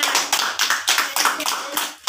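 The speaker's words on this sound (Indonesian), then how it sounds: "Tepuk tangannya mana?" A class claps hands during a micro-teaching lesson on civics, a run of rhythmic, fairly loud claps in a bouncing pattern, with voices mixed in alongside.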